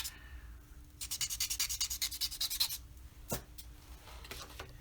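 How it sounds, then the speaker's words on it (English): A paper blending stump is rubbed briskly on a small sandpaper pad. The close, rhythmic scratchy strokes run rapidly for about two seconds, then a few isolated scrapes follow. "I have this little sandpaper pad which I use to clean these paper stumps off."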